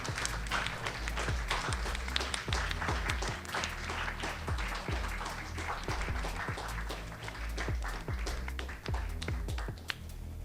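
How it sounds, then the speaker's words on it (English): Audience applause after a talk, a dense steady patter of many hands clapping that holds at moderate, somewhat distant volume throughout. "Maybe a round of applause."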